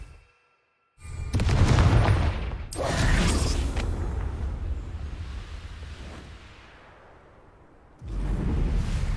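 An explosion from the Confringo spell in the video game Hogwarts Legacy: a heavy boom with a whooshing blast that hits after a brief silence, a second impact, then a long rumbling decay, and another burst near the end.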